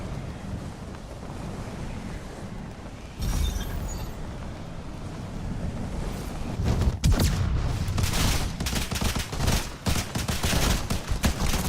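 Automatic weapon in a video game fires rapidly in a dense, continuous stream of shots that picks up after a quiet stretch, loud and close over a low background rumble.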